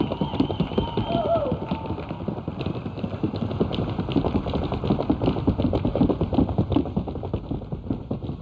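Paso Fino stallion Capitan de la Vitrina moving in an evenly spaced four-beat gait at a show, with rapid, steady hoof taps on a hard surface close by, continuing without pause under a low background hum.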